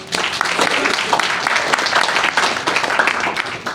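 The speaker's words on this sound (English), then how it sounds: "Let's give them a round of applause, please." Sustained applause from the audience at a March 2024 League of Women Voters legislative town hall fills the room, a dense, steady patter of many hands clapping at once that holds throughout without talk over it.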